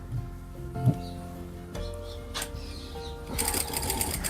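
A sewing machine stitches rouleau piping onto a garment's back neck, whirring steadily up close with a faster, louder run of stitching near the end.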